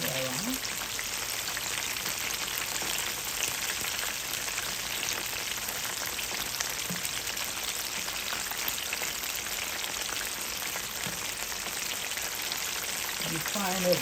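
Spring rolls fry in hot oil with a dense, even sizzling hiss that runs unbroken and fairly close throughout, with faint low bumps now and then.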